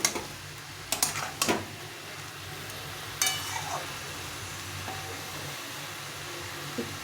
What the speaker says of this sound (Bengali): এই চালগুলো একটু ভালো করে একটু ভাজা ভাজা করে নিতে হবে একটু ভালো করে কষিয়ে নিতে হবে